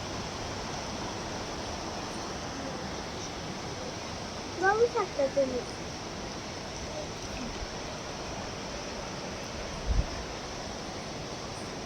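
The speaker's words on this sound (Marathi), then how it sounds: "आणि जोरात पाऊस चालू आहे. पहिल्यांदाचा पाऊस चालू आहे." Heavy rain falls in Pune as a steady, dense wash of noise throughout, with a voice briefly speaking over it partway through.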